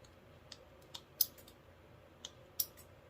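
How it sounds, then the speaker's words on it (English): Several quiet, sharp snips from scissors cutting through partly cured resin on a Christmas ornament, spaced irregularly against a hushed background. "I'm just going to take my scissors."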